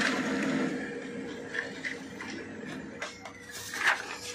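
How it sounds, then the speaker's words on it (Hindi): Konica Minolta photocopier running through a copy job with a toner and drum unit fault, a steady mechanical whir with soft clicks and brief higher whines, fairly close and alone. "हमने दोस्तों यहाँ पर कॉपी कर दिया वीडियो के अंदर"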